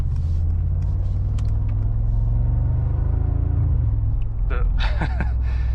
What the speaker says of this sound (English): The noise is still this rumbly noise, but the pops are like a muted, I would say.